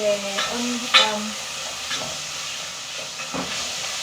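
Carrots cooking in a pan for fried rice, a steady hissing sizzle close by, with a few stirring scrapes and clinks of a utensil against the pan.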